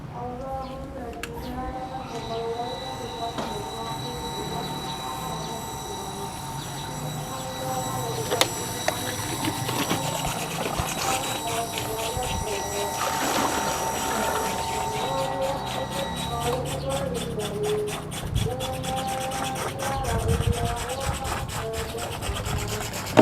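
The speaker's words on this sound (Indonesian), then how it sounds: "Sekarang pompanya saya nyalakan dulu." An electric water pump fills a tank with a steady, continuous droning hum and faint rattling, fitted with a float valve prone to clicking on and off. It runs unbroken throughout at moderate loudness.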